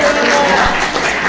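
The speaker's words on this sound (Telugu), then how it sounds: "గట్టిగా చప్పట్లు మీద మహిమపరుద్దాం" A church congregation claps together at a Sunday service, a loud, dense wash of applause filling the hall, with voices mixed in under it.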